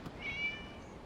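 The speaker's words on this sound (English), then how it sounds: "It was just a cat." A single faint, short cat meow from the video game Genshin Impact, thin and high, heard alone over quiet background ambience.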